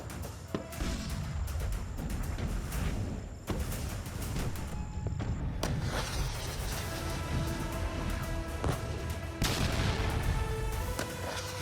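Explosions and artillery fire boom during a night military exercise, a continuous dense rumble with sharp blasts and crackling bursts, loud and unbroken with no talk.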